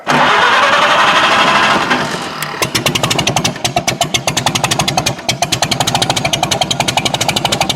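Farmall tractor engine cranking with a rough whirring starter for about two seconds, then catching and settling into a loud, close, rapid rhythmic idle chug that pulses evenly to the end.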